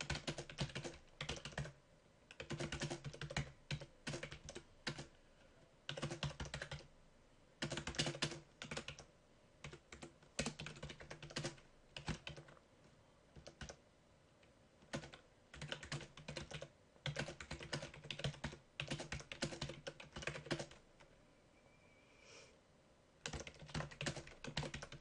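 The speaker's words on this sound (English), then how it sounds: "if I type up a message" An email message being typed on a computer keyboard: steady, close bursts of key clicks with brief pauses between runs, quiet and alone with no voices.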